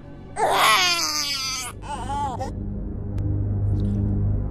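An infant bursts into loud, wailing cries up close, a long sob followed by a shorter wavering one, then trails off into quiet background with a faint click.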